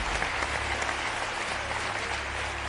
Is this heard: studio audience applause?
yes